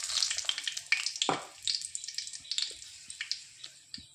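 Bay leaves and dried red chillies hit well-heated oil for tempering while a chicken curry is being made, giving a steady close crackling sizzle with bursts of popping spatter and one sharp clatter early on.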